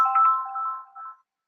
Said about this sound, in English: Who's phoning me?